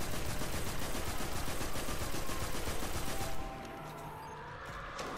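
Rapid automatic gunfire in the video game Destiny, a dense, loud burst of repeated shots that stops abruptly, leaving quieter game ambience behind.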